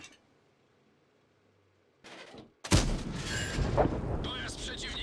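Quiet at first, then a short burst of noise followed by a heavy cannon blast and rumbling explosion that keeps roaring, from a KJPZ TIII Jäger tank cannon in a video game.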